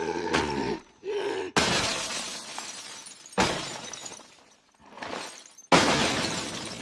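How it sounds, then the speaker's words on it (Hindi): A glass wall shatters in a series of loud, bright crashes, with several separate bursts of breaking glass and pieces tinkling and scattering to the ground between them; no speech. "शीशे की दीवार टूट गई, टिकड़े जमीन पर गिरे"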